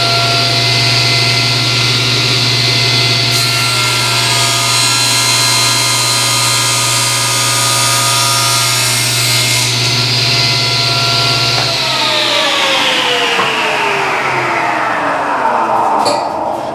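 A power saw cuts wood near the miter of a table rail, a loud, steady motor whine with a sustained buzz that stops abruptly, then spins down with falling pitch, close up.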